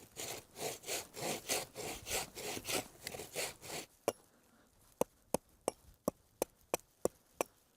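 A wooden log slice is worked by hand, first with about a dozen rhythmic back-and-forth sawing strokes, then a quiet pause followed by a run of sharp, evenly spaced taps or knocks on the wood.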